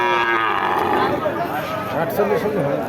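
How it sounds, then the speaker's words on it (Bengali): A cow at a cattle market moos in a long, low, wavering call amid busy crowd chatter, the lowing rising and falling under overlapping voices nearby. "দর্শক গরুটা দেখতে পাচ্ছেন আপনারা"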